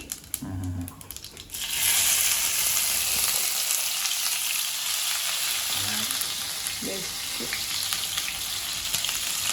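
Mustard seeds and finely chopped green chilies fry in hot oil, first crackling and popping, then settling into a loud, steady sizzle close by, with brief stirring in between.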